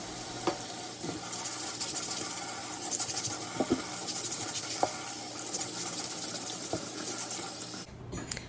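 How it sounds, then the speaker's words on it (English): Sweet potatoes scrubbed with a produce wash under a running kitchen tap: a steady stream of water with irregular knocks and splashes from handling, close by, cutting off near the end, no voices. "We're going to start by first cleaning our sweet potatoes. I'm using this wash from Trader Joe's."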